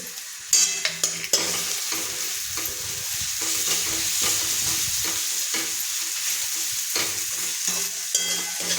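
Fresh coconut, ginger, garlic and chili masala sauté in a pan, sizzling steadily while a spoon scrapes and stirs with sharp clinks and knocks near the start and end.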